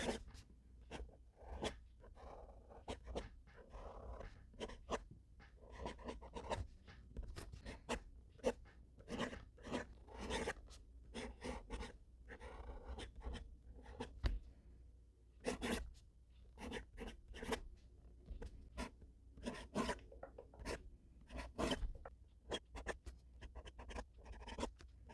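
An oblique double broad nib fountain pen scratching across paper in a quiet room, a long run of short, close strokes and pauses with a faint, dry rasp.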